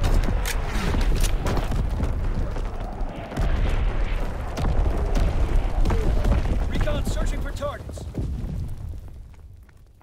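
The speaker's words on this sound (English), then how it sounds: "Firing division artillery" Division artillery fire in Call of Duty WWII, a continuous barrage of booming blasts and crackling impacts rolling on loudly, with game voices heard over the bombardment before it fades toward the end.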